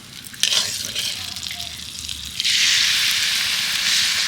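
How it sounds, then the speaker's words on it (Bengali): Prawns go into hot oil in a wok over an outdoor wood-fired clay stove. A few clattering knocks come first, then a sudden, loud, sustained sizzle that carries on to the end. "এবার ওই তেলে আমি চিংড়িটাকেও ভেজে নেব"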